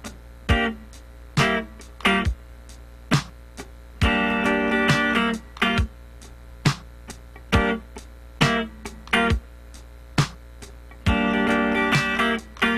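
A clean electric guitar plays a funky rhythm with minor seventh chords, crisp muted scratches alternating with short bright chord stabs in a steady, syncopated groove.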